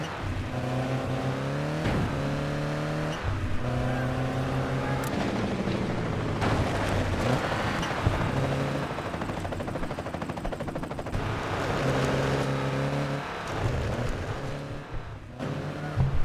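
Engines roar and rev continuously in a PSP rally racing video game with mud, tarmac and snow stages, rising and falling in pitch through gear shifts, loud and steady with occasional impact crashes and no talk.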